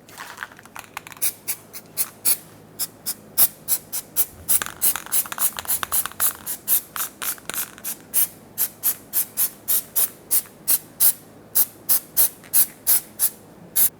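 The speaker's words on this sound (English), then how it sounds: "Now let's coat the hub surface in some anti-seize." Anti-seize goes onto the wheel hub of a 2000-2005 Ford Excursion in a rapid series of short, sharp hissing strokes, steady and close, with no talking.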